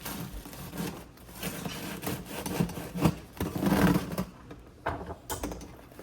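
A knife saws through a soft, freshly baked sourdough discard focaccia, giving a close, steady run of rasping, scraping strokes across the crust that ease off near the end.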